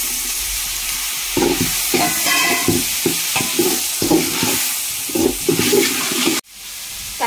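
Onions and tomatoes sautéing in a pan for mushroom biryani, a steady sizzle broken by repeated scraping stir strokes, close and fairly loud, ending with an abrupt cut near the end.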